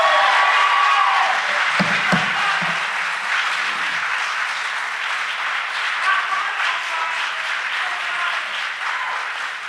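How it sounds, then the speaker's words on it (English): Audience applause fills a school board meeting room, a steady dense clapping that runs loud throughout and tapers slightly toward the end, with a few low thumps near the start. "The more you clap, the more time we waste."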